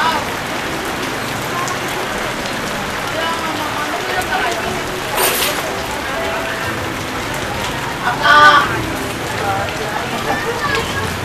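Steady rain hissing throughout, with a brief louder splash or rustle partway through and a faint short sound near the end.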